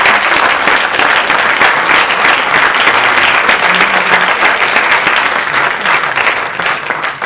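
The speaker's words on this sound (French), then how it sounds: "Je vous demande d'applaudir avec nous notre metteur en scène qui est aussi régisseur aujourd'hui, Monsieur Pierre Blochu." Steady, loud audience applause fills a theatre after an amateur festival play, a dense wash of clapping hands that holds evenly throughout without a break.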